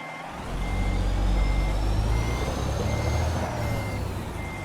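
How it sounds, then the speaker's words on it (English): A long semi-truck reversing in American Truck Simulator, with a steady high reversing beep repeating over a loud, continuous diesel engine rumble. "we're going to have to back up here."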